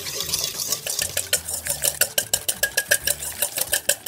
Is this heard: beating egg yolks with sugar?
yes